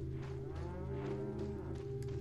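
A cow in the Resident Evil 4 game gives one long, low, drawn-out moo, close and clear with no talking over it.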